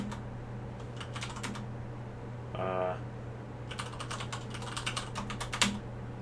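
Keys click on a computer keyboard in two short bursts of quick, close typing, separated by a brief pause, over a low steady electrical hum.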